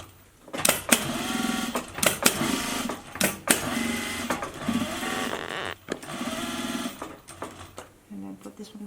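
A sewing machine stitches a fabric face mask in several short, loud bursts separated by brief pauses, with a nearby voice talking between and over the runs.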